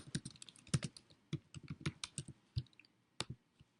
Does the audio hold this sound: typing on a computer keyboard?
yes